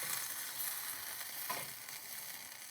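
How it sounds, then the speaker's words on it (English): Sauce with tomato sauce and parsley sizzles steadily in a pan while being stirred, a soft continuous frying hiss with faint scraping and no talk. "A little bit of tomato sauce. A little bit of parsley. And then stir attentively."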